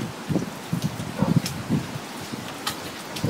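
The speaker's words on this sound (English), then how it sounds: "It's a little rainy." Rain falls during Hurricane Sandy, a steady, soft wash of drops outdoors among trees and bushes, with faint gusty rustling underneath and no talk.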